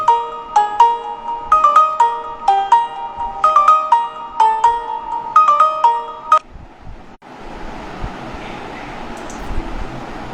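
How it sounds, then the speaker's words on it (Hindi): A melodic phone ringtone plays loud and close in repeating bursts of chiming notes for several seconds, then cuts off, leaving a noisy, hissy background. "ए बेटा ते फोन उचल"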